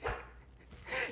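Service dog giving a short bark with a whimpering tone, close and fairly loud, heard alone in a brief burst at the start and again near the end.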